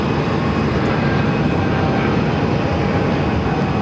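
Southwest Airlines Boeing 737-700 airliner arriving from Dallas at Phoenix airport, a steady, loud broadband engine roar held evenly throughout with no talk.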